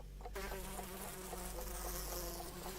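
A housefly buzzing close by in a quiet room, a steady droning whine that starts abruptly and holds for a few seconds with slight wavering pitch.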